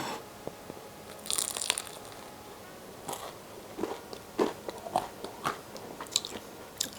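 Biting into a crunchy flat chocolate croissant, close and quiet, with a crisp crackle of flaky pastry followed by scattered crunchy chewing sounds.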